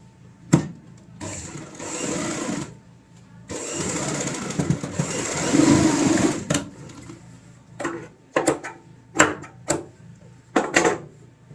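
A sewing machine stitching the corner of a fabric tote bag, running in bursts of a few seconds with a steady whirring hum, separated by clicks and knocks of handling the cloth, close by and without talk.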